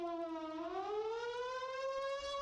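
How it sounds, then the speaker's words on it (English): Air raid sirens wail steadily, the pitch rising and holding in a long continuous tone, heard alone without voices. "Who's running the sirens around here?"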